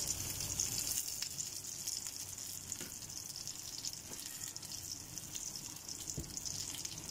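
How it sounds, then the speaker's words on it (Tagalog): Tamban and ibapa fish deep frying in cooking oil in a kawali, a steady close sizzle with crackling that holds through the whole stretch, no voices. "Dapat ito deep fry."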